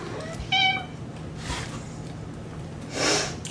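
A house cat meowing near a laundry tub full of soap suds, one short harmonic meow followed later by a breathy, snorting vocal sound, close by with a low steady hum underneath and no talking.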